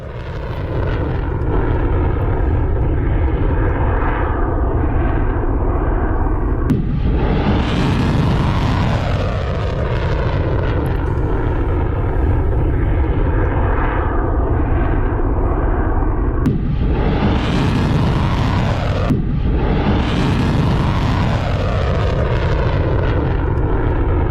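Ballistic missiles launched by Iran toward Israel in wartime news footage: a loud, sustained roaring blast fills the whole stretch, with sharp bursts and surges near the start, middle and end, and no voices.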